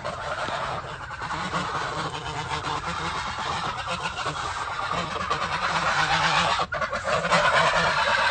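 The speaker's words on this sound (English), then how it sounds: "Hi, little geese." A flock of geese honks continuously and loudly, close by, with overlapping calls filling the whole stretch and no talking over them.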